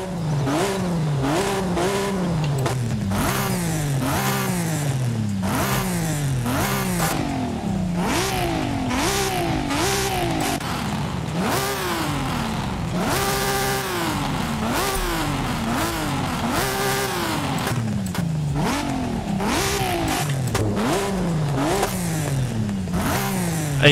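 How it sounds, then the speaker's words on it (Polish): A Lexus SC300 engine in Forza Horizon 5 revs repeatedly, pitch sweeping up and dropping back in quick rhythmic bursts through an exhaust, loud and continuous. "I teraz wydech, posłuchajmy."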